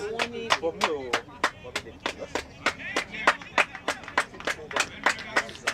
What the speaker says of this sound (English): Big clap there from the LAC, from the 1004 team